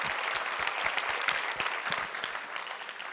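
A church congregation claps during a sermon, a moderate, scattered patter of hands with some louder individual claps standing out, fairly close and without talk.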